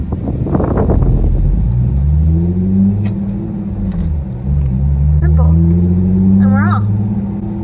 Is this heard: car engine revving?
yes